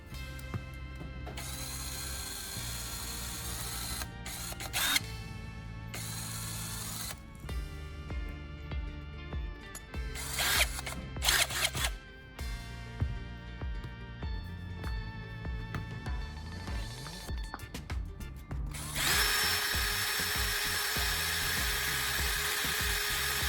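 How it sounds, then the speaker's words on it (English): A grinding tool runs against one end of a battery core, whining and shifting in pitch as it bites in and eases off, with a few short pauses, close and steady for over twenty seconds. "We should grind one end of the battery core to smooth out the edges,"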